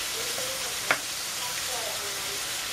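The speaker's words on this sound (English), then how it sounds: "I'm gonna add that in while the hamburger's cooking." Hamburger meat fries in a pan with minced onions and garlic powder, giving a steady close sizzle with a single sharp clink partway through.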